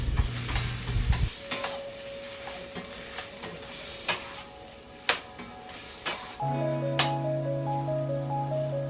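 Tomato and onion masala frying in a pan while being stirred, soft sizzle under sharp scrapes and clinks of the spoon, with a steady electronic tone audible in the background and no one speaking.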